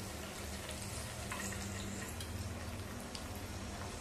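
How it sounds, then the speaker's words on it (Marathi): Water poured from a bowl into a tempering of spices in a pan, a steady, faint pouring and splashing wash heard close with no talk. "2 वाट्या आणि वरती पाव वाटी पाणी घालायचं."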